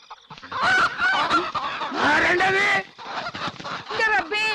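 Loud, harsh squawks and honking cries from chickens, repeated in quick bursts across the whole stretch, close by.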